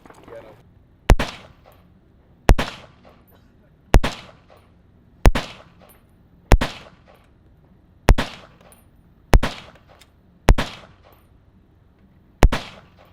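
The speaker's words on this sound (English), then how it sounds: "I like 308. That thing shoots." Nine loud, sharp .308 rifle shots ring out at an outdoor shooting range, spaced roughly every second and a half, each followed by a brief decaying echo, with quiet stretches in between.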